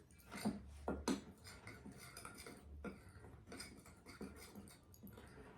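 Baking soda and baking powder stirred together in a bowl for banana bread, heard as quiet irregular scraping and clinking of a utensil against the bowl, with a few stronger knocks early on.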